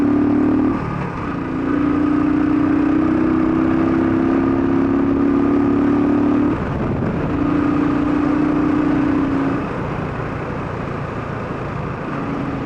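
A 2016 Royal Enfield Thunderbird 350 motorcycle carrying a passenger accelerates at full power, a steady mid-pitched engine drone that rises through two long pulls with a brief break between them, heard close and without talk.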